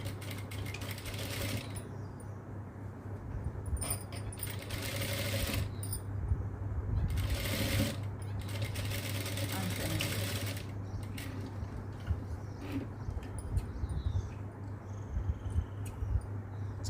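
A sewing machine stitches a baby dress, its motor humming in a steady low drone broken by short bursts and pauses of rapid needle clatter, close and fairly loud, with no talk.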